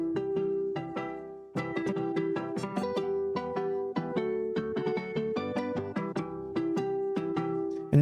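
A Phase Plant synthesizer saw wave with delay in original mode plays bright, buzzy notes in a rhythmic pattern, with dense repeating echoes stacking up over a sustained tone, loud and alone.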